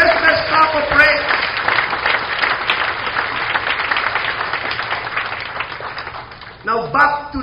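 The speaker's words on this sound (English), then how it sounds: "Come on, give him the best clap of praise to the Lord." A church congregation claps in praise during a Sunday service, a dense, sustained wash of applause running the whole stretch, with a voice talking over the opening second and again near the end.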